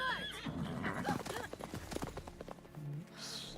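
A horse in the Witcher 3 video game neighs and whinnies loudly up close, followed by a run of clip-clopping hooves, with game sounds mixed in.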